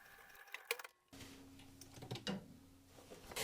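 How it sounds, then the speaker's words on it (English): Sewing machine top stitching along a chalk mark on fabric for a bag, heard as a soft steady mechanical run with faint ticking clicks, close by and fairly quiet, with no talking. "And we're going to take this to the machine. We're going to top stitch at your preferred top stitch length directly on top of the chalk mark."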